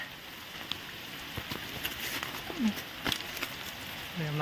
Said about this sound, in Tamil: மழை வந்துருச்சுங்க சரியான மழையா